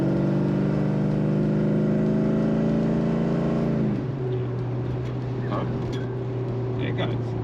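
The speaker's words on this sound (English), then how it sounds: "Yeah, you can punch it." Ford XE Fairmont Ghia with a Cleveland V8, heard from inside the cabin as the engine pulls hard with a rising drone, then shifts down to a steadier cruise hum with brief talk.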